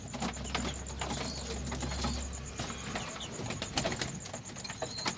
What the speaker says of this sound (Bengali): সারাদিন পরে গম খাচ্ছে পায়রাগুলো।